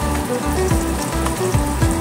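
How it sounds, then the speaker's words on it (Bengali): Potatoes fry in oil with black cumin seeds, a close steady sizzle broken by regular scraping strokes of stirring, with a faint hum underneath and no talking. "আলুগুলোকে একটু ভাজা ভাজা করে নেব।"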